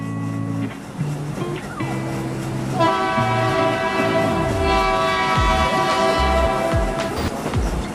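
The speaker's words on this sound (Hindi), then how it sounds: "ये रही, सामने से एक ट्रेन क्रॉस कर रही है" Train passing in the Indian Police Train Simulator game, with a steady rumbling roll, a sustained horn blast in the middle and clattering wheels throughout, loud and close with no voices.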